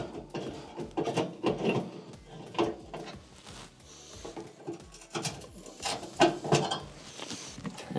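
Close, uneven scraping and creaking as a number 2 Phillips screw is worked out of the ground strap at the back of a burner tube on an Amana stove, in short irregular bursts with no talk.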